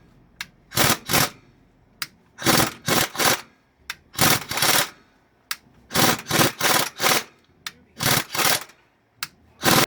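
A pneumatic air gun works a broken bolt on a 1964 Plymouth Fury, loud close rattling bursts in short and longer groups separated by brief pauses.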